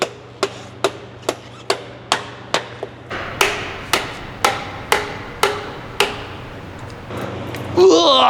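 Someone strikes metal with a big hammer during a Nissan Titan 5.0L Cummins rebuild, about fourteen sharp, evenly spaced blows ringing out close by, with a voice heard briefly at the end.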